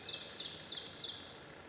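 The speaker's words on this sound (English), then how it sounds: "I'm sure you can hear all the birds" Faint birdsong on the opening day of spring turkey season, a repeated high chirping call sounding about four times in a steady rhythm over quiet outdoor background noise.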